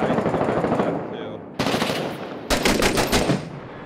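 Light machine gun fire in the video game Six Days in Fallujah, loud sustained bursts of automatic shots with sharp breaks between volleys, close and dense, with no talk over it.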